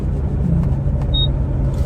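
A car passes on the road and cuts in, a steady close engine and tyre rumble that holds loud for the whole moment with no voices over it.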